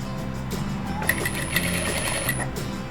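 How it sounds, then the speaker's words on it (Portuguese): A sewing machine runs continuously, stitching strips of fabric together, with a close, steady mechanical hum and a fast rhythmic needle chatter, plus a few light clicks. "Vou costurando."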